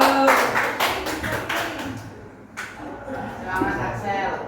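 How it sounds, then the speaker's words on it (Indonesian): Students applauding in a classroom, a burst of scattered hand claps that thins out and picks up again, with voices talking over it. "Beri tepuk tangan deh"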